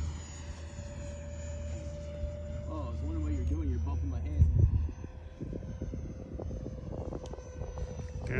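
A small radio-controlled F-22 model jet with a 64mm electric ducted fan flies overhead, a steady whining hum that rises and shifts in pitch as it passes, fairly distant and continuous, with people talking nearby.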